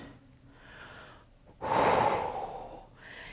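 A person breathing during a mobility exercise flow, with soft steady inhales and then a louder, longer exhale or sigh partway through, close to the microphone.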